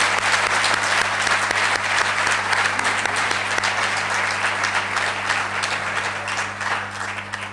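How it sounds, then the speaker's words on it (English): A live crowd at a drum master class applauds a guest drummer in a steady, full round of clapping that stays loud and even throughout, with a faint low hum underneath. "Would you please give a great round of applause to Jason Ruler over here?"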